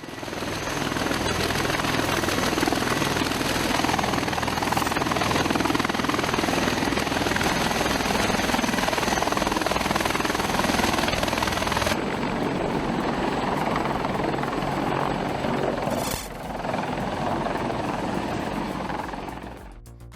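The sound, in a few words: MH-60R Seahawk helicopter launching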